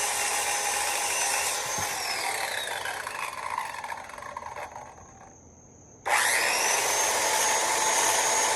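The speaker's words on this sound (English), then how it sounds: "I cut the piece of wood for the top railing" A power saw cuts a length of wood for a deck's top railing, loud and close, with a whining motor that slows and drops out briefly before spinning back up at full speed.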